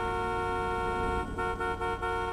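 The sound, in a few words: car horn honking in a video game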